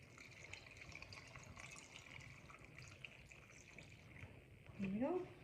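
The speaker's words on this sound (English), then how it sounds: "we're going to top it off with our vinegar" Vinegar poured into a kombucha bottle to top it off for a second ferment: a faint, steady liquid trickle that swells near the end, its pitch rising as the bottle fills.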